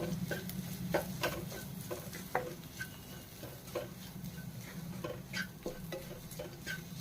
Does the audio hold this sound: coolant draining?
no